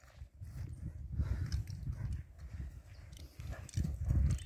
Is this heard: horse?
yes